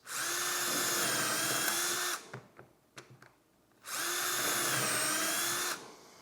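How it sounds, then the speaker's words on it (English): A power drill whines loudly through wood in two long bursts, with a few knocks and clicks in the quiet pause between them. "hold it in place just like this, and drill my holes."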